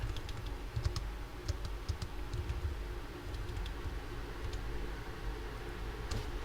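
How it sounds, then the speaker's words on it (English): Typing on a computer keyboard during a software language-settings change: a steady, moderately quiet patter of key clicks over a low background hum, with no talking. "I have a keyboard thing here."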